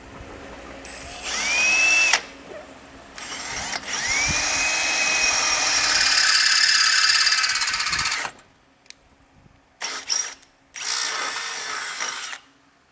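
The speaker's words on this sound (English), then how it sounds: "for the bottom hole, we're gonna be using a 3/8 drill bit" A power drill with a 3/8-inch bit whirs loudly in long bursts, spinning up and winding down with brief pauses and a few short final pulses, while installing a base plate on a 2026 Ford Escape; no one speaks.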